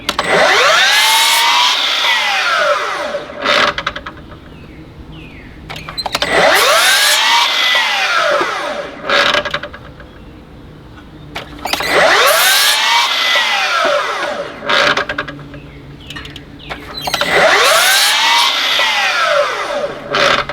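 A miter saw spins up and cuts through a wooden 4x4 post four times in a row, each loud whining cut ramping up and down, separated by brief pauses.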